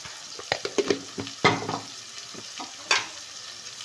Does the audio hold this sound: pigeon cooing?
no